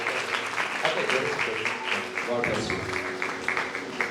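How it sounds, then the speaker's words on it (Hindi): A church congregation claps loudly in welcome during a sermon, a busy rhythmic burst of many hands with voices audible underneath. "आइए इनको भी वेलकम करें जोरदार तालियों में।"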